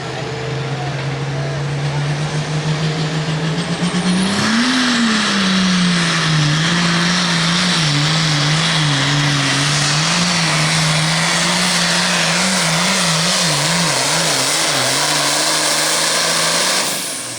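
Loud, sustained roar of a pulling vehicle's engine during a 9,300 lb pull run at a Pro Pulling League event, its pitch rising, wavering and surging continuously for the whole run.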